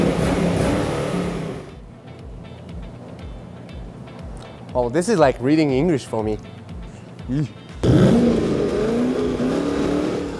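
A Camaro sports car engine revs loudly in bursts, roaring up and down with a rising, throaty growl; someone talks briefly in a quiet stretch between the revs.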